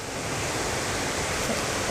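A waterfall pours beside a river fishing pocket, a steady broadband rush of water that stays constant throughout with no distinct events.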